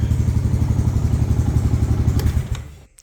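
A supercharged Honda motorcycle engine runs with its exhaust rumbling, a steady loud low throb with rapid pulses that fades out near the end.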